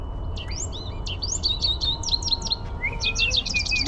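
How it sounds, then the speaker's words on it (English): A goldfinch sings a quick run of bright, repeated twittering notes with a longer thin whistle near the end, clear and fairly close over a steady low background rumble. "That's a goldfinch."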